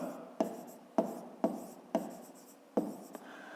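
Pen writing down an answer during a fifth-grade math exercise: six sharp strokes tapping onto paper at roughly half-second intervals, close and fairly quiet, with no talk.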